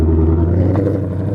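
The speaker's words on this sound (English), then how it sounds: "I'm driving one of your 2020 Shelby GT500. You take off like at 90 go." A 2020 Shelby GT500 engine roars up close, a steady, loud, throaty drone that stays strong through the short burst.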